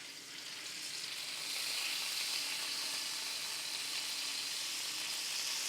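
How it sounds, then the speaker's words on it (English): Ground beef sizzles and fries steadily in a hot pan, a dense, even hiss that swells slightly after the first second and holds loud and close throughout, with no talking. "So we have our meat in there cooking."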